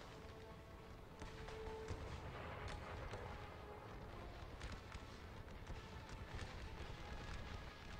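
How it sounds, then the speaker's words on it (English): Artillery barrages rumble through an American Civil War battle in a 1v1 tournament match, dense and continuous with repeated booms and crackling fire layered over a constant low roar for the whole stretch. "the artillery is just continuing to shell the shit out of him"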